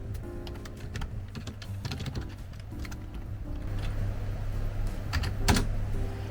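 Computer keyboard typing runs steadily throughout, a close, continuous patter of key clicks over a low background hum, with no voices.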